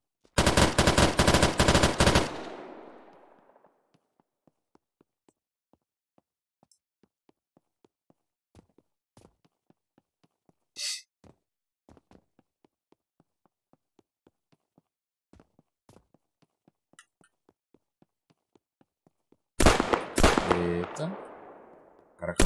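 Loud bursts of automatic gunfire in the video game Unturned open and close the sequence, with sparse footsteps and faint clicks in the quiet stretch between them.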